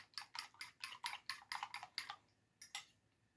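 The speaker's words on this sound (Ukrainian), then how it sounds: "Змазала сковорідку, збиваю два яєчка." Rapid clinking strokes of a fork against a bowl while whisking two eggs, about ten quick taps in a steady rhythm, then a pause and two final clicks, close by.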